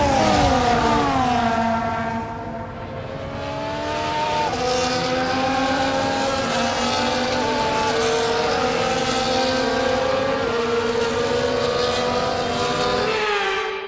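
Formula 1 race cars on a formation lap in the F1 24 video game make a loud, continuous engine drone whose pitch rises and shifts steadily as the car accelerates, with no talking.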